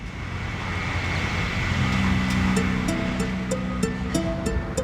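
Waves wash steadily along the Black Sea coast, a continuous broad rush of surf. Faint tonal notes drift in over it partway through.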